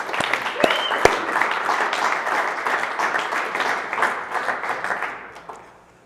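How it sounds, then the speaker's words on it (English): Sustained applause and clapping from an audience at a team meeting, dense and even for several seconds, with a few sharper claps early on before it tapers off at the end. "Give him a round of applause."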